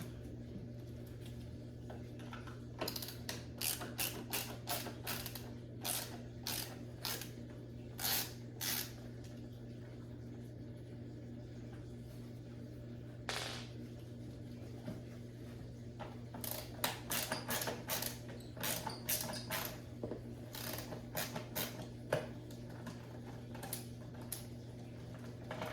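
Ratchet or tool removing star bolts from the seats of a 2020 Dodge Challenger Hellcat, rapid clicking bursts in short runs over a low steady hum.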